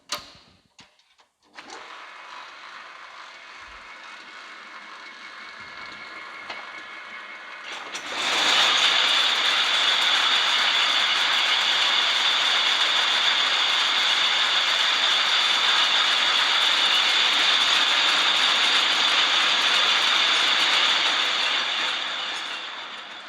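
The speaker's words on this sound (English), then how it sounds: "So, this is the roving frame." A jute roving frame machine running at Verdant Works, a loud continuous mechanical roar with a rapid ticking rattle that swells sharply partway through and then stays constant.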